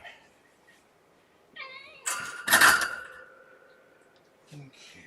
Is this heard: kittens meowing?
yes